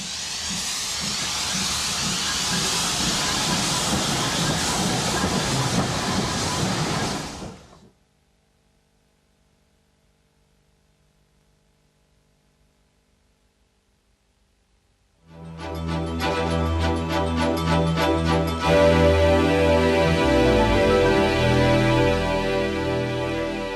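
A Glen Douglas steam locomotive bound for Fort William in the 1960s gives a loud, steady hiss of steam. A stretch of near silence follows, then heavy rumbling, clanking rail and train noise.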